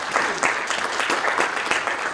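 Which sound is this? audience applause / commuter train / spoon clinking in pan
audience applause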